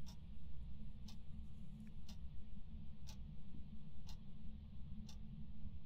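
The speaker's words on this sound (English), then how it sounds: "All I can hear is the clock. It is a very loud clock." A loud in-game clock from the video game Desolate ticks steadily about once per second over a low rumbling ambient drone, with no voices.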